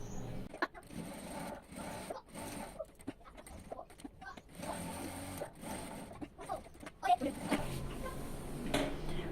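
A domestic sewing machine runs steadily, stitching a seam around fabric for a handbag, with a rhythmic mechanical whir and clatter broken by brief pauses and restarts, fairly close and moderately loud, with no talking over it.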